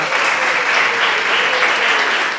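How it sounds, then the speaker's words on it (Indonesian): A classroom of students applauds a classmate, a steady wash of clapping from many hands that holds even and fairly near for a couple of seconds. "Tepuk tangan dong buat Mas Firman."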